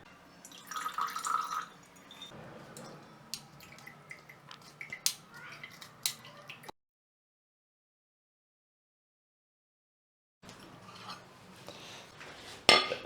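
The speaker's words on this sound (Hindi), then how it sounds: "अब हम छान लेंगे, क्योंकि जो ये मोटी जो चीज़ें इसके अंदर हैं, अदरक और दालचीनी वगैरह" A hot ginger and cinnamon remedy is poured through a strainer, making a close trickle with dripping and metallic clinks of utensils. A stretch of silence breaks it before more pouring and clinking resume.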